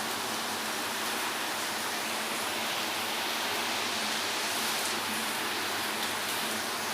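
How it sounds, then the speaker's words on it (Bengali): Water from freshly washed chhana (cottage cheese) drains through a strainer as it is separated, a steady close splashing, running flow, even and continuous with no talking. "এবারে ছানাটা ছেঁকে নেব।"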